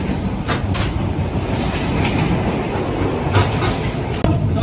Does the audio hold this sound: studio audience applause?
no